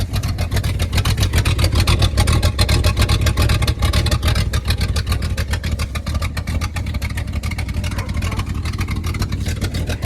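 A cammed car engine fitted with a Hogg cam runs close and loud, a continuous choppy rumble that swells slightly as it revs, with no voices over it.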